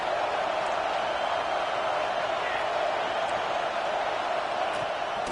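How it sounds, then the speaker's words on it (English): A football stadium crowd roars on third down, a dense, steady wall of cheering that holds loud and unbroken throughout. "Decibels rising as the crowd gets behind this defense on third down."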